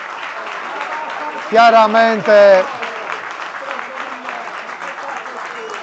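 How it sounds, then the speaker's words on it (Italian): Spectators applaud the goalkeeper at an Eccellenza amateur football match between Nuorese and Ferrini, a steady distant wash of clapping that runs through the clip while a commentator speaks briefly over it. "arriva anche l'applauso del Franco Frogheri"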